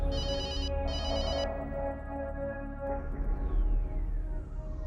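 A telephone rings loudly with a repeating electronic tone in the foreground, set against steady background noise in a hospital scene from a Hindi TV drama.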